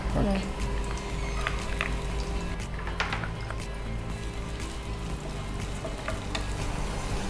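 Garlic and ginger sizzle steadily in a hot pan of oil, a continuous close frying hiss with occasional stirring, while a voice talks over it.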